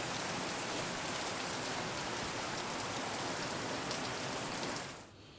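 Heavy monsoon rain pours over Trimbakeshwar in Nashik in a dense, constant roar on the surfaces, then drops off sharply at the very end.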